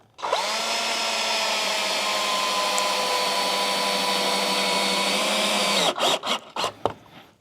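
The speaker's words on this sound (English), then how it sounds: "I will run 1 screw in without a clamp and then 1 with" A power drill runs at a steady high whine for about five seconds while it drives a screw into a wooden board, then it stops and gives a few short bursts to finish, loud and close, with no voices.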